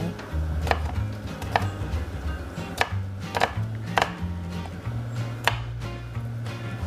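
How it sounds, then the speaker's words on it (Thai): A knife finely chops garlic on a cutting board with sharp, close knocks in an irregular rhythm, over a low background hum. "แล้วก็สับให้ละเอียดเลยค่ะ"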